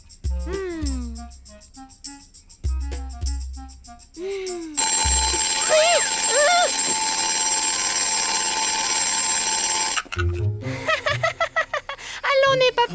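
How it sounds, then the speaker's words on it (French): A cartoon alarm clock rings in a long, loud continuous burst, preceded by squeaky creature vocalizations and followed by a character speaking. "C'est juste un réveil."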